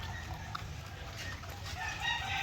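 Chickens cluck while feeding and a barred rock rooster sounds faintly amid low farmyard background noise, no talking.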